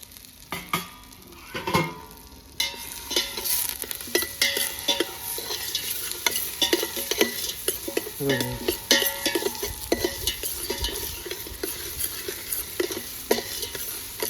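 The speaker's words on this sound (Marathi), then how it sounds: "प्लस कांदा चांगलं आपल्याला शिजवून घ्यायचं" Onions and curry leaves stirred and frying in a pot over a wood-fired stove, with a steady close sizzle and repeated scraping strokes of a spoon against the pan throughout, no voices.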